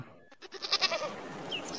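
A goat gives a single wavering bleat close by after a brief quiet start, followed by softer lingering animal sounds, with no speech.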